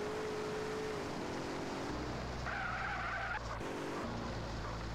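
Tires screech and skid as a car drifts in GTA San Andreas, a loud sustained squeal riding over steady engine roar with a brief gear-shift dip midway.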